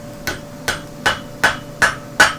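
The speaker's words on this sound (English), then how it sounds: "round part of the hammer on the bick of the anvil" A farrier's hammer, round face down, striking horseshoe steel on the bick of the anvil: six evenly spaced, ringing metallic hits, close and clear, with a faint steady hum between them.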